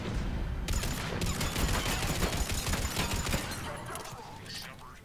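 Sustained gunfire against the Atlas mech in the sci-fi shooter Mass Effect 3, a loud, dense rattle of overlapping shots and cracks throughout that thins slightly toward the end, with voices mixed in.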